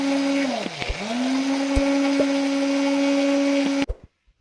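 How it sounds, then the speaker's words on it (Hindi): An electric grinder whirs loudly as it grinds malai boti spice masala, with a steady high motor whine that dips briefly in pitch before cutting off abruptly near the end. "तो चले जी ग्राइंड करते हैं"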